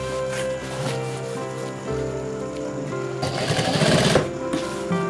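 A sewing machine runs steadily while stitching a 10-inch webbing strap onto a homemade trekking bag, giving a continuous close whirring hum that swells louder and rougher near the end.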